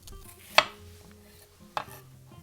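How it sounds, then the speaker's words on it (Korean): An onion is cut into small pieces with a knife on a board, giving two distinct sharp chops spaced about a second apart against a quiet background. "양파 너무 크지 않게 작게 썰어주세요."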